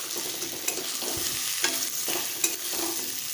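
A spoon scrapes and stirs masala with fried potatoes and fried fritters in a hot pan, giving rhythmic scraping strokes over a soft frying sizzle, with no talk.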